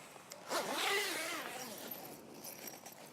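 A zip on an inflatable awning annexe is pulled open in one long, close rasping run with a few smaller tugs afterward, quiet and alone.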